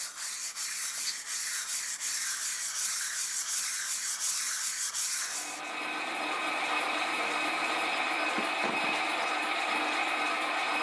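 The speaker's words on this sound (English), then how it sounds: "I'm just working through the grits with this wet and dry with a bit of WD-40 on it." Metal being hand sanded with wet and dry abrasive paper lubricated with WD-40, working through the grits on steam engine A-frame parts; a steady, close rubbing scrape runs throughout with no talk.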